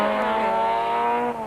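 VW Golf rally car driven flat out on a 1992 Sasol 400 rally stage, its engine holding a loud sustained high-revving note close by before easing slightly at the end.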